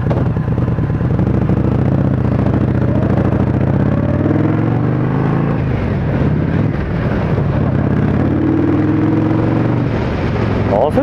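An Indian Scout Bobber Twenty motorcycle engine on a ride, a continuous loud low rumble with shifting revs and wind buffeting, while a rider talks over it throughout.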